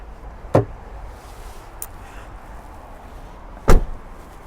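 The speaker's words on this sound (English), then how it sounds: "open the passenger door and your diesel fill is just here" Passenger door of a 2024 Hymer ML T 570 motorhome, heard as two sharp close mechanical clunks a few seconds apart, the latch releasing and the door moving, with a faint click between them and quiet surroundings.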